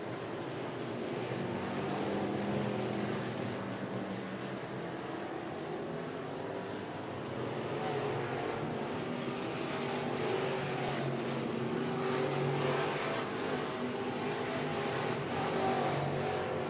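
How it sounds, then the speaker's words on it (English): IMCA Northern Sportmod race cars circling a dirt speedway late in a race, a steady broad engine roar that swells and fades slightly as the pack passes, distant and continuous without pause. "Jake Jordan is your leader as the laps wind down"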